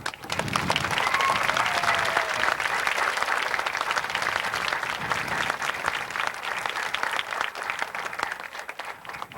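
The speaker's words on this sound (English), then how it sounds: "a round of applause." A crowd at an outdoor centennial parade gathering applauds the celebration officers with dense, steady clapping that holds at an even level for the full stretch.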